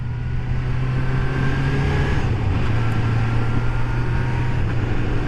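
A Kawasaki GPZ600R motorcycle being ridden through mid-north Germany after a rebuild, its engine a steady, close droning hum with a slight pitch dip midway, continuous and alone without talk.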